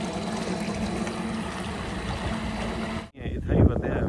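Water gushes steadily from a solar-powered pump motor in a Sindh village field, a continuous rushing pour that cuts off abruptly near the end, followed by a brief muddled burst with faint voices.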